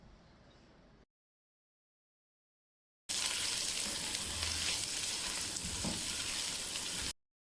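Chopped garlic and ginger fry with onion in a pan for an aloo gobi dish, giving a loud, steady crackling sizzle after a short quiet gap, close and continuous.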